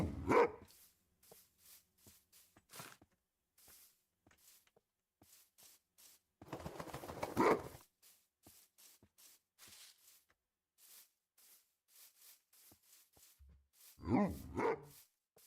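A video game dog barks in three short clusters spaced several seconds apart, with soft clicking game sounds ticking in between.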